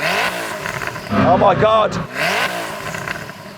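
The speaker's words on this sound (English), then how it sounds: "I'm going to start it by revving up this Koenigsegg." A Koenigsegg supercar engine revs loudly up and falls back during a drag race sound check, with a rising and falling roar close by and a man exclaiming over it.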